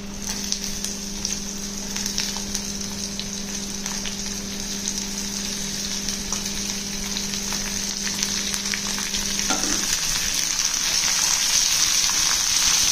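Green chillies and onions fry in hot oil with curry leaves and tempering spices, giving a loud, continuous close sizzle with a steady hum in the background that cuts out near the end.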